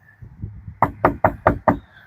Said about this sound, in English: I'm going to knock on the door after Ellie is off of place.